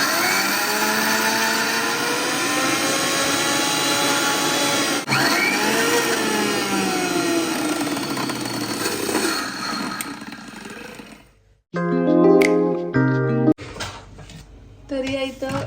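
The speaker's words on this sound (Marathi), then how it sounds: "त्याच्या डाळी मिक्सरमधून काढून चला तर मग मी आता हे अगोदर वाटून घेते" A mixer grinder whirs loudly and continuously for about eleven seconds grinding urad, moong, chana, toor and moth bean lentils, its pitch shifting as it grinds, then stops and clattering and voices follow.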